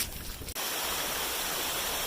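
A waterfall on the Appalachian Trail near Pearisburg, swollen after a night of rain, roars as a loud, close, constant rush of water, with a brief quieter moment at the start.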